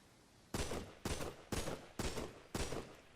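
Five loud, evenly spaced bursts of unsuppressed M249 machine gun fire from the video game Rust, each about a third of a second long with short gaps between, heard alone with no talk.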